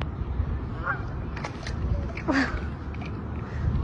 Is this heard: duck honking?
yes